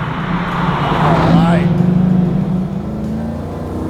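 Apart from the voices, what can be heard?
1968 Chevrolet Camaro RS/SS LS3 restomod driving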